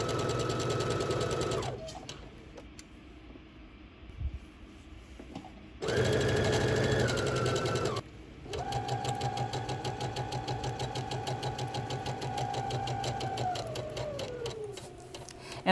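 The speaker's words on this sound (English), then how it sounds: "we're going to be sewing our seam from the bottom all the way up to the top" A sewing machine stitches a seam on a smocked dress, running in loud, steady bursts of rapid mechanical chatter, with short pauses where the motor hum drops away and a final slowdown.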